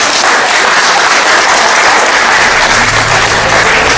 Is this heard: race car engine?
no